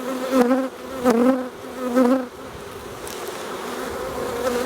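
Honey bees buzz at an open hive during an early-season inspection, a dense close swarm drone with several louder rising swells in the first half, then a steadier hum.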